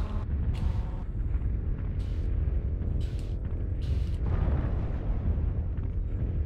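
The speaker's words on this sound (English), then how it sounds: "It's a bombardment run." Airstrike bombardment in the MechWarrior Online video game, a loud, continuous low rumbling roar of explosions with several sharper bursts layered over the heavy booming.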